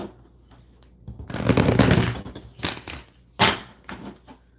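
Tarot cards being shuffled during a live reading, a long crisp riffle followed by a few shorter shuffling bursts, close and fairly loud, with no talk.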